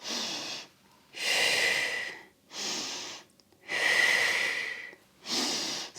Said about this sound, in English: Inhale and exhale. The exhale helps us to use the core.